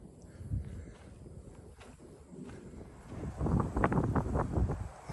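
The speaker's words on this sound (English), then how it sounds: "Listen to the wind come through the trees." Wind rushing through trees at a campsite, a soft gusty roar that swells louder toward the end, with faint rustling and a little microphone buffeting, outdoors and without voices.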